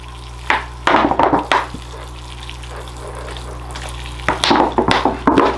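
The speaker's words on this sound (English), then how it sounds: "Let's water this down a little bit." Water is poured from a hose onto bonsai soil in a pond-style pot, giving short splashing, gurgling bursts near the start and again at the end over a steady low pump hum.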